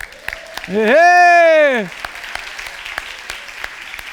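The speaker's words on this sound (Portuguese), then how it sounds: "dá uma salva de palmas aí para ela" A church congregation applauds during a sermon, a broad wash of clapping under and after a loud sustained voice that rises over the crowd for about a second.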